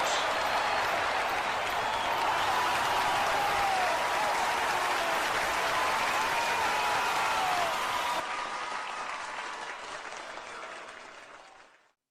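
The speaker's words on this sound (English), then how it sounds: "As the crowd cheers fade out, the lights fade up." Arena crowd cheering and applauding after a Battle Royal win, a loud sustained roar of many voices and hands that holds steady, then thins and fades away to silence.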